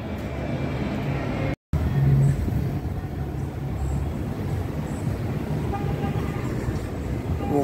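Chicago elevated 'L' metro trains on the Midway–Linden route produce a steady low rumble of rail and wheel noise, with continuous street-level traffic mixed in, moderately loud and without speech.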